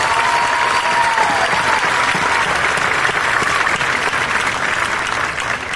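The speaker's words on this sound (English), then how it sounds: "Please give these individuals a big round of applause for their great work." A high school graduation crowd gives a sustained, loud round of applause for faculty and staff, dense and even throughout with a faint crowd murmur.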